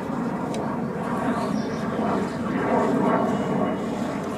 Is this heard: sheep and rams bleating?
no